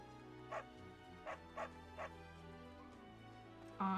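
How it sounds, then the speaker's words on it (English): Dogs in the game Genshin Impact give several short, soft barks and whimpers at irregular intervals over a steady low in-game background hum, with a louder yip at the end. "I can't pet the dogs"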